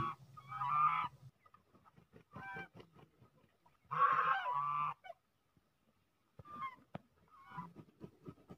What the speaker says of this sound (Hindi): यहाँ पर आप वो बत्तख देख रहे हैं आवाज़ सुनिए आप इनकी